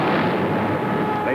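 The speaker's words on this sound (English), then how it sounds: "her barrage of tracer bullets flashing like flaming spears" A WWII aircraft carrier fires an anti-aircraft barrage, a dense, loud roar of rapid gunfire and bursts that runs unbroken through the short stretch.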